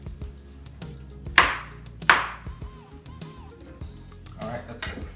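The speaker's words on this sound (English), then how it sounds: "Just want to make sure everything gets chopped nicely." Mushrooms being chopped with a knife for a Thai coconut curry soup, with two sharp, close knife strikes on the board early on and softer cutting noises around them as a person talks.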